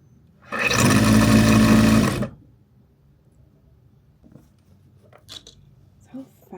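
An industrial sewing machine runs loud and steady for about two seconds with a dense mechanical whir, then stops, leaving faint handling clicks and small sounds in a quiet room.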